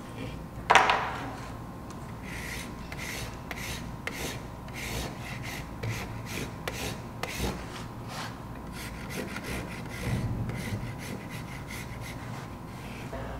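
A knife or surform rasp scrapes across a setting plaster mold for a two-part ceramic cup handle, making repeated dry rasping strokes at close range after one brief sharp knock near the start.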